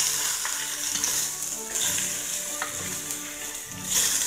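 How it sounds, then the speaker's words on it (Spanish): Shredded beef frying with onion in a pan sizzles steadily and loudly, with the scrape and rustle of stirring running throughout and no voices. "Aquí le vamos a mover para que se revuelva con la cebolla"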